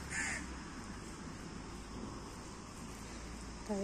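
Crows cawing at a seashore beside a temple, a few harsh calls standing out over a faint steady background of wind and surf, with no voices.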